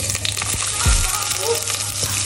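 Onion frying in a little oil for fried rice, a dense, close, continuous sizzle with a brief stirring knock partway through.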